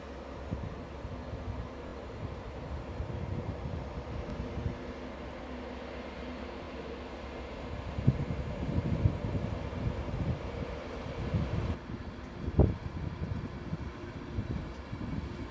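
Class 82 driving van 82219 and Class 91 locomotive 91117 on the West Riding Limited pull out of platform 3a at Doncaster station, a steady low rumble with louder clanks and thumps partway through.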